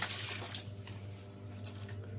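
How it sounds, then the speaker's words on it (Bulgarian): A cup of water is poured into a pot holding a silicone mould, set up for canning jars of fish. A soft, steady splash runs for a moment, then settles into a faint trickle. "Изсипам чаша вода."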